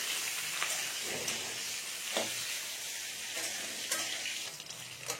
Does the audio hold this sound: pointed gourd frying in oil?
yes